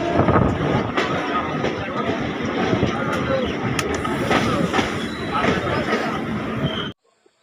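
A train pulls into a crowded station with a loud, continuous rumbling roar and rattle, close by, with crowd noise beneath, stopping abruptly at the end.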